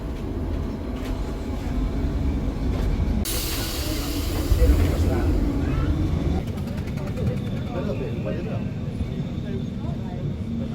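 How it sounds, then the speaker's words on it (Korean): Lisbon's small, crowded number 28 tram rolling along, a steady rumble with hiss and a sharp bright screech of wheels partway through, with passengers' voices murmuring in the background. "악명 높은 28번 트램을 타야 됩니다"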